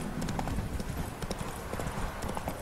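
Horse hooves clip-clop steadily on the ground in The Witcher 3: Wild Hunt, a continuous close, busy clatter of hoofbeats with game ambience underneath.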